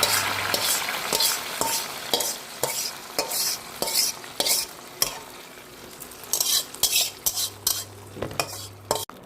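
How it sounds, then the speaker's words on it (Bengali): A hot tempering of chillies, bay leaf and whole garam masala is poured into a dish, giving a steady frying sizzle with repeated scraping stirs and utensil clinks, close and fairly loud throughout. "এইবার এই ফোড়নটা এর মধ্যে ঢেলে দিলাম।"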